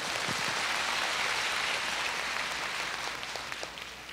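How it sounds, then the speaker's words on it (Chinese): A concert audience at a university-town anniversary show claps in a dense, even burst that starts loud and thins slightly toward the end, with no voices heard. "掌声鼓励一下。"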